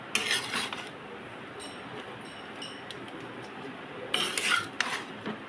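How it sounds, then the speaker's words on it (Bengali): Ridge gourd with salt being stirred in a pan, a spoon scraping and rubbing against the metal in soft bursts, louder at the start and near the end, with no talk. "এবার ঝিঙেটা দিয়ে দিয়েছি, পরিমাণ মতো নুন দিয়েছি, এবার নাড়াচ্ছি।"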